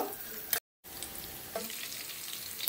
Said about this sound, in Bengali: আর দিয়ে দেবো এর মধ্যে কাঁচা লঙ্কা। তো এটা একটু লাল লাল করে ভালো করে ভেজে নেব।